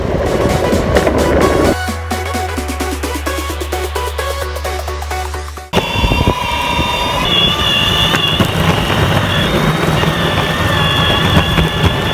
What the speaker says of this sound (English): She didn't realize I was on an electric skateboard.